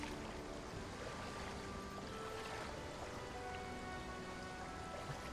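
A waterfall in Final Fantasy VII Rebirth rushes as a steady, faint, even wash of falling water that holds unbroken throughout, with no talk.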